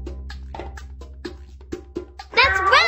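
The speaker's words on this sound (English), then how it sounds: "That's right! It's a cat!" A cartoon cat gives a bright, wavering meow at the end, following a steady rhythmic musical beat in a children's farm-animal sound quiz.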